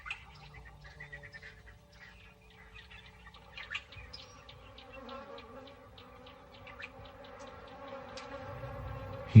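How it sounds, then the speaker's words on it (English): African bees buzzing in hot, dry country, a low drone of many insects with scattered faint chirps, fairly quiet and distant, swelling a little near the end. "African bees, like everything else, are desperate for sustenance."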